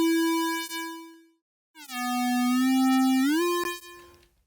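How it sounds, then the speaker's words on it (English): A square-wave oscillator on a synthesizer plays a bright, buzzy, harmonically rich tone: one note, a short gap, then a second sustained note that bends upward near the end before fading, loud and alone. "so we're just using a square oscillator"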